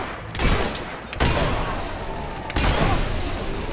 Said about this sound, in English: A few gunshots though, and they go down pretty easy.